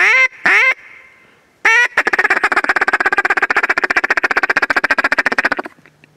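A flock of ducks calls during a waterfowl hunt, a few separate honking quacks and then a long, dense run of rapid rhythmic quacking that carries on for several seconds before stopping abruptly.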